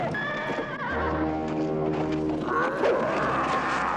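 Horses neigh and whinny over steady clip-clopping hooves in a fantasy battle scene from The Beastmaster, with a rumbling film score underneath and no talk.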